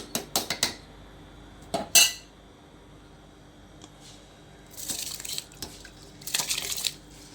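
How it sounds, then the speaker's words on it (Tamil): Rice tipped into a boiling biryani pot with lemon in the water, heard as sharp metallic clatters and scrapes of utensils against the vessel in short bursts, then rushing, pouring sounds near the end. "இப்போ வந்து நம்ம அரிசியை சேர்த்துக்கலாம்."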